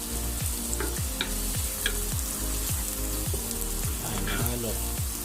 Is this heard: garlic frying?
yes